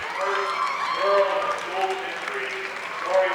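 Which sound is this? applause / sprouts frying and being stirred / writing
applause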